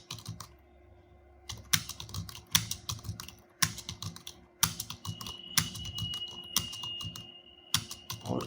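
Hindi text in Mangal font is typed on a computer keyboard in a fast, continuous run of close clicks and clacks with brief pauses and an occasional heavier key thump.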